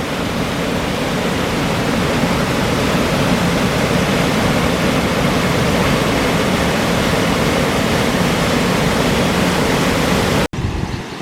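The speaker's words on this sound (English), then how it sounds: "As you might be able to hear, we're now at the main locks." Water roars through the main river locks, a loud, constant broadband rush close by with no voices, cutting off abruptly near the end.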